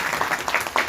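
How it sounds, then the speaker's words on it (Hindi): Audience clapping at a government environmental planning department event in Bhopal, a short burst of steady applause with a few louder claps standing out. "ताली बजाओगी।"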